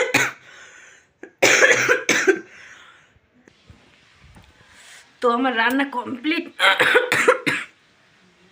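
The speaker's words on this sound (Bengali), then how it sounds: "কাশি হয়ে গেছে" Several sharp coughs from a person with a cold come in bursts close to the microphone, with the person speaking briefly between them.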